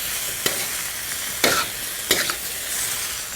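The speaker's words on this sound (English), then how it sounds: "Stir them in." Tomatoes stirred into frying eggplants in a pan, a continuous sizzle broken by three sharp scraping stirs, close and clear, with no talking.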